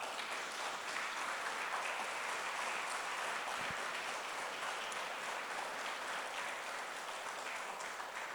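Steady, dense applause from a church congregation during a worship service, sustained evenly and moderately distant for the whole stretch with no pauses.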